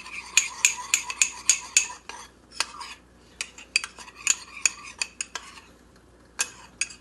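Quick metallic clinks and taps of a utensil against a bowl or pot while lamb shank sauce is mixed, arriving in rapid clustered bursts with short pauses, close and fairly crisp, no talking.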